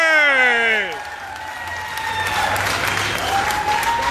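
A shouted voice, then a crowd at a street demonstration in Chicoutimi breaks into applause and cheering, clapping building steadily in the open air, with some talk mixed in.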